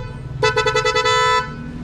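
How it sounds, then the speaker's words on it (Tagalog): A motorcycle horn sounds close and loud in a rapid series of short pulsing toots lasting about a second, over a low idling background. "Pwede naman busina yan, di ba?"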